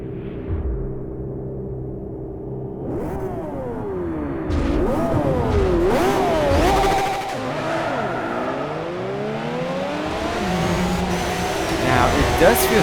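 Race cars, including an LMP prototype, rev and accelerate in Forza Motorsport 4, with rising and falling engine pitches overlapping, loud and close, with tire noise and occasional talk over them.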